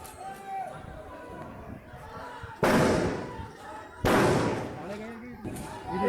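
Gunfire during an election clash over alleged fake voting in Kairana: two loud, sharp bursts with long ringing tails stand out over shouting crowd voices, followed by a softer third report near the end.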